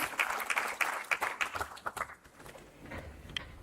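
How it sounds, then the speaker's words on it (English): A crowd applauds with dense, crackling clapping that starts strong and gradually thins out and fades over a few seconds. "Can we have a big round of applause for Sir?"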